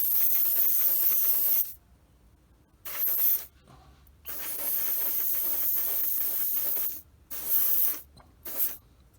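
Spray coat hisses onto a Bandai X-Wing model kit in several close bursts: a long spray, short puffs, another long pass, then two brief final bursts separated by quiet gaps.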